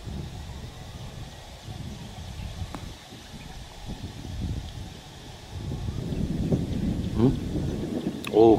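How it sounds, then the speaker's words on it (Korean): Thunder rumbles low outdoors at a golf tournament in Thailand, swelling in the second half of the clip amid wind and rain-like noise, with a few faint voices. "갑자기 여러분 천둥이 칩니다."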